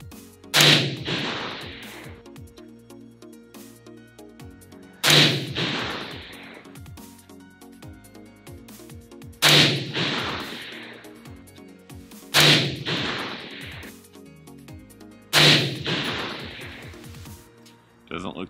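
A Daniel Defense DDM4 V7 AR-15 in .223 fires 55 grain Sierra Blitzkrieg rounds, five sharp, loud single shots spaced a few seconds apart, each with a quick decaying echo, while a person talks between them.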